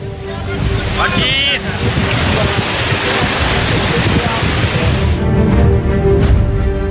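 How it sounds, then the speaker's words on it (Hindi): Fast floodwater rushes across a road during floods, a loud continuous roaring wash with wind buffeting the microphone and faint voices briefly audible underneath. "पानी की धार इतनी तेज है कि हर चीज को बहा ले जाने को आमादा है"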